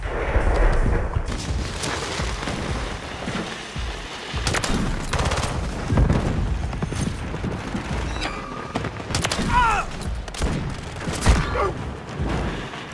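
Kar98k rifle gunshots ring out in a video game, several sharp loud reports spaced irregularly over a bed of game noise and mechanical clatter.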